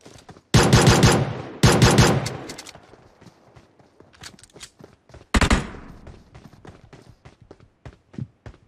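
Gunfire in PUBG Mobile zombie mode: two loud bursts of automatic fire early on, a third burst midway, and scattered fainter shots and footstep-like clicks in between, with no talking.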